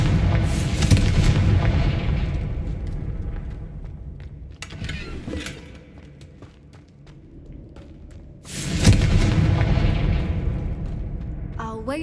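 A Confringo blasting spell in the video game Hogwarts Legacy bursts in two loud, booming explosions, one at the start and a second about eight seconds later, with a rumbling tail between them and no talk over it.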